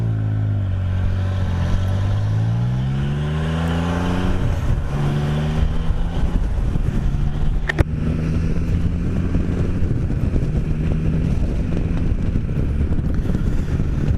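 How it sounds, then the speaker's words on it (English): An old, smelly diesel engine running steadily and close, a continuous low rumble that rises and falls in pitch as it revs, mixed with wind buffeting on the microphone. "Oh, that's an old stinky diesel."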